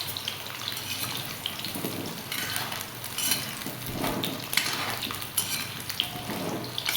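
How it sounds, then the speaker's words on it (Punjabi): Indian gooseberries (amla) fry in a pan with a constant crackling sizzle, punctuated by repeated clinks and scrapes of a utensil against the metal, close and steady for several seconds. "ਇਸ ਤਰ੍ਹਾਂ ਇਹ ਆਪਣੇ ਆਵਲੇ ਫਰਾਈ ਹੋਈ ਜਾਣਗੇ"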